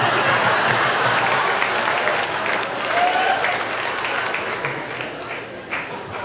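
A stand-up comedy crowd claps during a Jim Carrey set, a dense, steady wash of many hands filling the room at close range, holding on throughout with slight swells.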